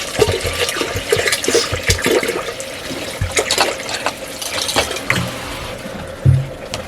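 Water is poured and splashed in a Nepali village kitchen, with irregular gurgling and sloshing bursts up close and a few heavier splashes near the end, with no voices over it.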